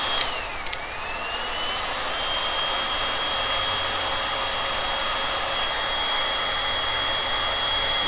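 A hair dryer blows steadily on freshly painted furniture, drying pink sky-blend paint; a loud, continuous whirring rush starts after a brief click and holds evenly throughout, with a faint high whine running across it and no talking.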